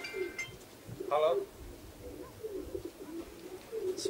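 Racing pigeons returning to the loft at the end of a race give soft, low cooing calls in a quiet outdoor setting, with a brief clink and some faint chirps mixed in.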